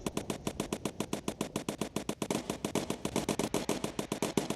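Rapid machine gun fire in the World War II bomber game Bomber Crew rattles in a fast, even stream of sharp bursts for several seconds, moderately loud with no talk over it.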